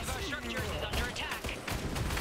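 Machine-gun fire from enemy gunners in the Iron Harvest campaign, rapid crackling bursts mixed with battle noise, heard under a speaking voice.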